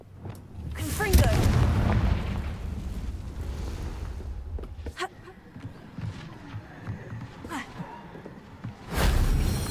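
Spell blasts in the Hogwarts Legacy video game, including the Confringo blasting spell, land as a few short booming explosive bursts amid game effects and quieter background sounds, with a voice speaking at moderate level.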